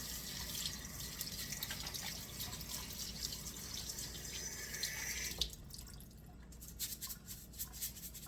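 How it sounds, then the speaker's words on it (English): Rice being rinsed under running tap water for a 1796 rice pudding, a steady faint flow with drips and splashing that changes to lighter dripping near the end, close by and with no talking. "Clean your rice."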